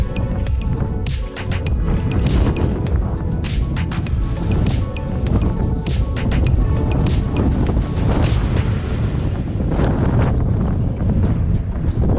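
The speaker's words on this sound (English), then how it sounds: "It's a bit windy out here." Strong wind on Win Hill in the Peak District buffets the microphone continuously, a loud roaring rush with gusts rising and falling throughout.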